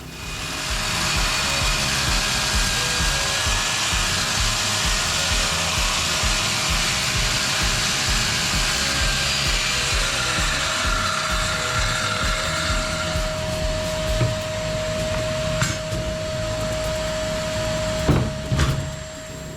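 A Besttools circular saw whines steadily as it crosscuts wood, with a sustained high motor tone and a few sharp knocks near the end; no talking.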